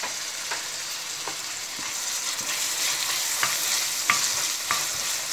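Tomato added to onions sautéing in a pan for palak paneer, a steady hiss of frying with occasional soft spatula scrapes and small clicks, close up, no talking.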